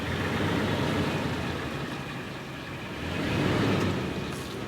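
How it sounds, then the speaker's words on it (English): A Toyota 4Runner with re-geared axles idles in drive as the gas is pressed lightly, giving a steady, close engine rumble that swells briefly toward the end. "I'm gonna hit the gas just a little bit."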